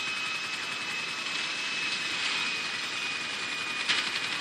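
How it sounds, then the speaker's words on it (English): A helicopter in the GTA 5 video game flies with a steady, even rotor and engine whir at moderate level, with no talk. "I killed like 5 people with my helicopter"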